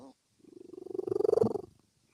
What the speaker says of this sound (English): This is what a very happy senior rescue adopted kitty sounds like.